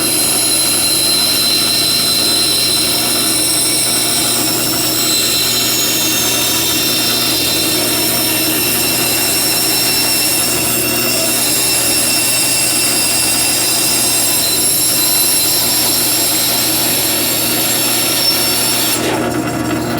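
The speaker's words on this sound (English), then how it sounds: "take this over to the bandsaw and just take off as much of this excess material as I can" A bandsaw cuts excess metal off a part for a Grizzly G0704 mill spindle lock, producing a steady, loud rasping drone with a constant hum underneath, running without pause for the whole stretch and ending abruptly near the close.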